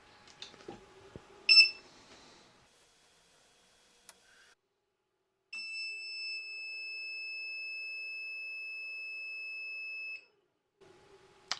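An inverter on a Bluetti solar generator gives a few short clicks and a brief chirp, then a single steady electronic beep tone holds for about five seconds before cutting off.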